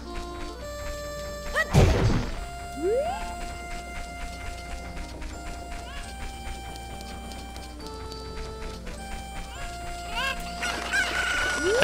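Chickens cluck and a rooster crows in The Legend of Zelda: Ocarina of Time, with a loud crash near the start, game music and effects underneath, and scattered cackling throughout.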